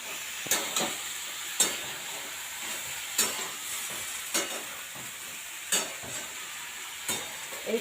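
Pui bituli (Malabar spinach seeds) go into a pan of lightly fried vegetables, giving a soft continuous sizzle punctuated by regular scraping stir strokes, with no voices.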